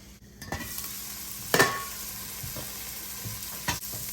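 Vegetable curry simmering on a low flame, with a soft steady sizzle and a few sharp stirring knocks against the pan, close by and with no talk.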